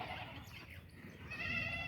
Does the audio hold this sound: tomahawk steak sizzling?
no